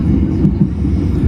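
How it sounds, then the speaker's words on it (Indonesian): A Kaligung passenger train runs past near Semarang, a steady loud low rumble of wheels and cars lasting throughout with no clear pauses. "Dan ini ada rangkaian kereta api apa ini?"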